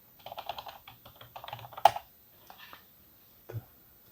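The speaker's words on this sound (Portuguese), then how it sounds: "agora eu só vou precisar digitar toda vez isso aqui" Fingers type quickly on a computer keyboard, a close burst of light clicking keystrokes with a sharper key strike in the middle, then a few scattered taps after a pause.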